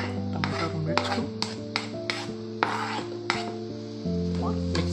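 Tomato and green chilli being stirred in a pan while cooking koilar bhaji, a spoon scraping and clinking against the metal in repeated strokes over a steady low hum, close and moderately loud.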